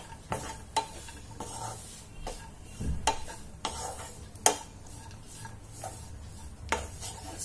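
Grated dry coconut being stirred into a date and dry-fruit laddoo mixture in a pan, with a steady scraping and rubbing and irregular clicks of the spoon against the metal, close and fairly quiet.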